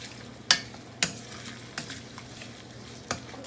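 Red curry paste stirred in a pan over medium heat for Lao num mee ka tee: a few sharp metallic scrapes and clinks of the utensil, close and distinct, over a soft, steady sizzle.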